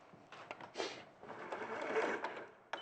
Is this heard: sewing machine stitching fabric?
yes